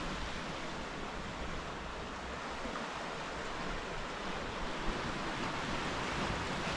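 Quiet, steady wash of surf and wind on a calm sea coast beside a small quarry, with offshore wind blowing from the land. It is a faint, continuous broadband rush, and no one speaks.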